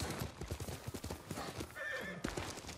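Hooves clip-clop in a rapid galloping rhythm, and a horse whinnies partway through, with game-like audio quality and no talking, from the video game Ghost of Tsushima.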